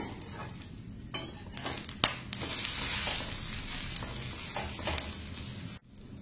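An adai fries in oil on a pan, with a continuous sizzle broken by scraping and clinking as it is turned over with a spatula, one sharp knock midway.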